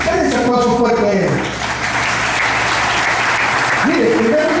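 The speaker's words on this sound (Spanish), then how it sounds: "¿Cuál es el aplauso fuerte a él?" A church congregation breaks into loud, dense applause, with a voice speaking over the clapping at the start and again near the end.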